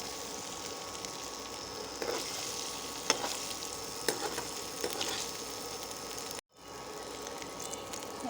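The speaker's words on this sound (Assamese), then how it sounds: "পনীৰ ভাজি হৈ গ'ল মোৰ" Paneer pieces frying in oil in a pan make a steady, close crackling sizzle with a few sharper pops and a brief dropout near the end, and no one speaks.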